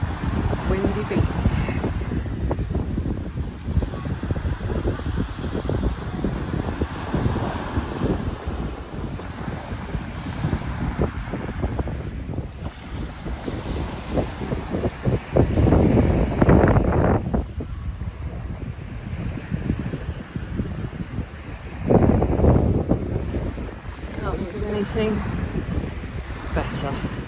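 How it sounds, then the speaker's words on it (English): Strong wind buffets the microphone on a palm-lined beach at Mamora Bay, Antigua, with a steady roar and louder gusts, and surf rolling beneath it throughout. "Windy beach."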